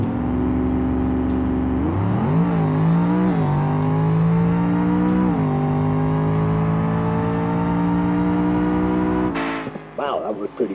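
A drag car on 26-inch rear slicks in BeamNG launches with a loud, sustained engine roar that climbs in pitch through several gear changes and ends abruptly, with a voice talking over it.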